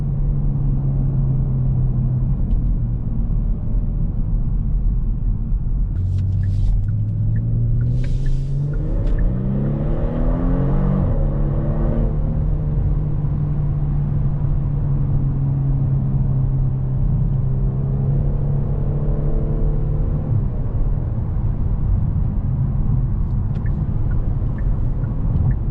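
A 2022 Genesis G70 V6 sports sedan's engine revs up through the gears, pitch climbing then dropping with a quick double downshift, a steady close-up engine drone inside the car.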